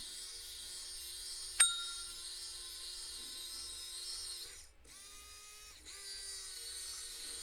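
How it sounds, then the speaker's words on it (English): A slow, low-RPM drill used as a screwdriver drives screws, giving a quiet, steady whine that runs on with a click and a brief dip near the end. "The only thing I don't like about this drill is that the RPM is really slow, really slow."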